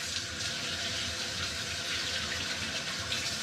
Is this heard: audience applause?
no